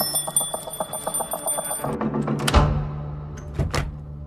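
A perimeter alarm bell set around a house in the forest rings as a film sound effect: a steady metallic ringing, then a sharp louder strike and a few fading clangs, alone with no voices.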